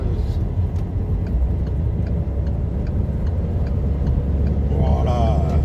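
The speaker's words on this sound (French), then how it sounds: "il met un coup d'accélération, il a lâché tout le monde" Race car engine roaring loudly as it accelerates hard and pulls away from the pack, a dense continuous drone with ticking mechanical notes throughout, under an excited commentator's voice.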